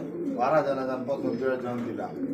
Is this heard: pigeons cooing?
yes